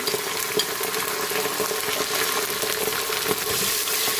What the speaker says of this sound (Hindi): अब इसमें हम लहसुन और अदरक का पेस्ट डाल देंगे, और इसको भी भून लेंगे।